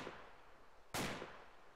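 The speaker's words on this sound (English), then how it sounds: "But somebody's shooting at us" A single distant gunshot rings out in the DayZ video game, one sharp crack followed by a short decaying tail over a faint ambient background.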